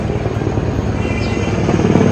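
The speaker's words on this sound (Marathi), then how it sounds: "हेलिकॉप्टर." A helicopter passes overhead near a hotel in Gulmarg, Kashmir, its loud, close rotor chop pulsing steadily throughout.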